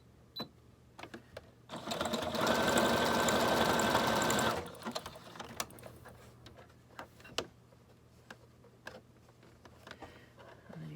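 A sewing machine stitches a zigzag seam on a quilted fabric cover in one steady, close whirring burst of about three seconds, followed by scattered light clicks and taps as the fabric is handled.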